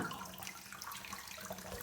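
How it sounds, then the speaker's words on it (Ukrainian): Tap water runs in a steady, close hiss for a couple of seconds without pause, with no talking over it. "Тобто відкрию воду."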